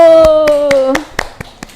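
Children in a classroom clap their hands in a run of sharp claps, about seven in quick rhythm, following a sung or called-out voice at the start.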